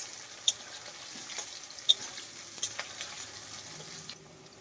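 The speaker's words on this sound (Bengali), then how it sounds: "সামান্য পরিমাণে অল্প একটু জল দিয়ে দেওয়া হবে" A small splash of water added to a pan of frying katla fish curry with potatoes, giving a soft, steady sizzle and watery hiss with a few light clinks of a utensil, fairly quiet, with no talking.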